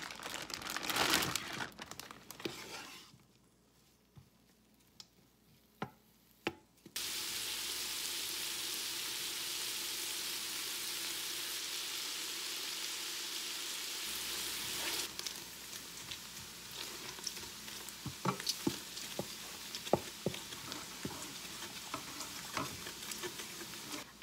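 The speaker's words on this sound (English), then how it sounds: "I have it in the saute brown mode, and I'm going to go ahead and put in a pound of bacon" A pound of bacon fries in an electric pressure cooker on saute-brown mode, first with rustling and handling, then with a loud, dense, continuous sizzle and later with crackling pops, close and without talk.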